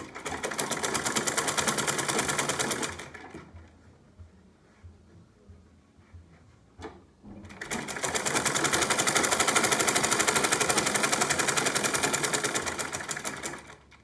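A sewing machine stitches fabric for a buba in a fast, steady whirring run, stops for a few seconds of near quiet, then starts again at full speed, loud and close.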